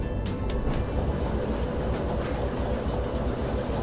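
A DE6 diesel locomotive hauls a long train in the Derail Valley railway simulator, with a steady loud rumble of rolling wheels and rhythmic clickety-clack from the cars throughout.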